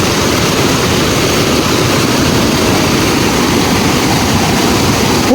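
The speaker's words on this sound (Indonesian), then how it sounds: "Terdengar suara sungai yang airnya sangat melimpah teman-teman." A river swollen with abundant water rushes in a steady, loud, broadband roar across the whole stretch, alone and without talk, in a rural Indonesian village setting.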